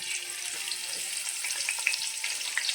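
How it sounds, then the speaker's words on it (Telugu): Onions are dropped into hot oil for paneer biryani and fry with a steady bright crackling sizzle, close and moderately loud, without speech. "ఆయిల్ వేడెక్కుతుంది కదా ఇప్పుడు మనం ఉల్లిపాయలు వేసుకోవాలి"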